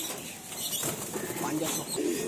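Pigeons coo and rustle at a pigeon sale while a bird is shown to buyers, giving a soft, close murmur of cooing with faint wing movement and some background voices.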